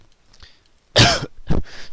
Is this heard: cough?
yes